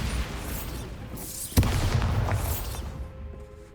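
A Bombarda spell blast in Hogwarts Legacy erupts as a single sudden boom at mid-clip, standing out over a steady bed of dark ambience and rumbling game effects that linger and fade afterward.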